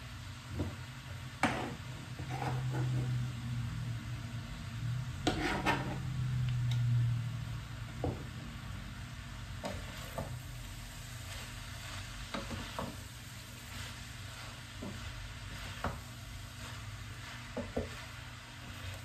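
An egg roll in a bowl mixture cooks down in a pan with a low, steady sizzle, punctuated by occasional spatula taps and scrapes, some near and some softer, with a faint hum beneath.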